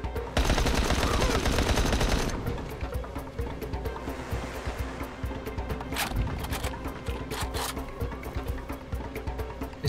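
SMG gunfire in Dying Light bursts out loud and dense for about two seconds, followed by scattered shots, clattering impacts and ambient game noise.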